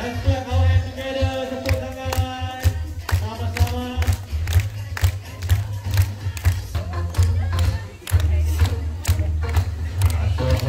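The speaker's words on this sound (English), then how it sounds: "let's clap our hands together" An audience claps its hands together at a bird park show featuring pelicans and storks at KL Bird Park, with a steady run of claps over a low, continuous hum and crowd noise.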